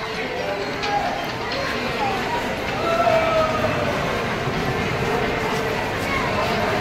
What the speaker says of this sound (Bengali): এটা হলো শিয়ালদহ স্টেশন।